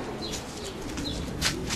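Pigeons coo inside a yearling pigeon loft at a Polish racing pigeon club. Soft, low coos roll on steadily, with a few sharper chirps and wing-like rustles over the close, busy background.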